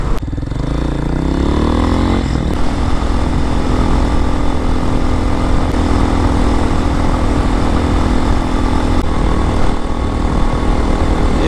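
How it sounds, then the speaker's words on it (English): A 2023 Hawk-X 250 motorcycle engine runs steadily while riding on a road with construction, a loud continuous drone with a rising rev at the start settling into a smooth, even hum. "The engine is smooth."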